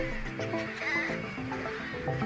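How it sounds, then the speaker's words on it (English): Carrion crows squawking as they circle over a city, a dense chorus of harsh, overlapping honking calls, loud and continuous, with no speech. "The squawk of carrion crows circling overhead drowns out the city sounds."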